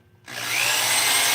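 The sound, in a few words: power drill drilling a pilot hole for a screw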